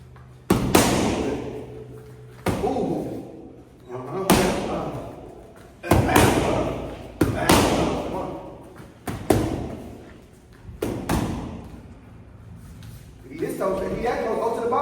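Muay Thai strikes slam into held pads during a padwork and boxing session, a series of loud, close thuds arriving in uneven bursts about every one to two seconds, with a coach calling out instructions between them.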